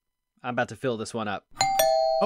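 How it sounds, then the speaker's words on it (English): A doorbell rings twice in quick succession, a clear bright ding-dong with a lingering tone, right after a man's close speech stops short. "that's a doorbell. I'll go get it."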